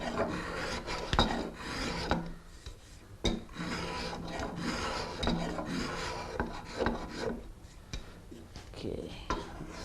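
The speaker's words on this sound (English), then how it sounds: "Notice that I'm holding the spoke shave on a bit of a skew." A spokeshave held on a skew shaves across the wood of a carved ball and claw foot, giving repeated raspy scraping strokes in an irregular rhythm, close and clear, with someone speaking intermittently between strokes.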